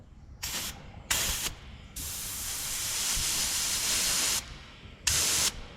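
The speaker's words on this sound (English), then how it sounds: "let's see if we can breathe any life into our old fuel pump." A 1970 Pontiac Grand Prix's old fuel pump is being run, producing a steady hissing spray of fuel in several bursts, with two short spurts, a long continuous stretch, then one more spurt, fairly close and alone.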